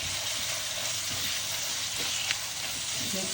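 Marinated chicken sizzles and fries in a pan, a dense, close, steady crackle with faint stirring knocks throughout.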